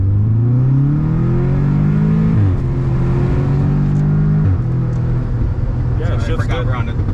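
A 2018 Audi S3 with a stage 2 tune running E30 fuel accelerates hard in sport mode, its engine note climbing loudly and dropping sharply at two gear shifts, heard from inside the cabin.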